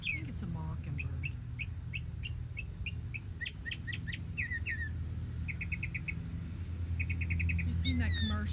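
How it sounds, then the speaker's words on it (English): Outdoor birdsong in central Florida with repeated varied chirps and whistled phrases in short bursts, moderately near, over a steady background hum with low voices or noise underneath. "Listen to this bird. I think it's a mockingbird."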